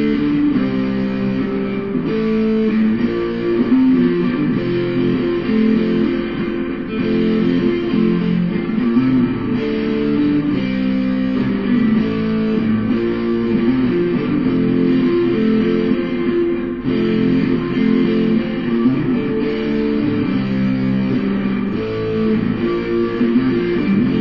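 Guitar chords for a song strum continuously at a steady mid-level volume, a lightly driven repeating progression held throughout with no voice over it.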